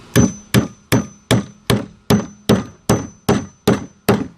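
Eleven sharp hammer blows drive nails into 2x4 wood at an even, steady pace, each a crisp ringing knock of metal on wood, close and loud.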